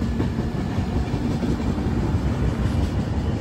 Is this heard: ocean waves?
no